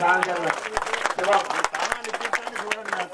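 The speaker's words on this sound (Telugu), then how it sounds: "ఒకసారి చప్పట్లు కొట్టారు." An audience at a temple idol-installation ceremony claps in short bursts. Sharp hand claps sound under and between a man's loud speech.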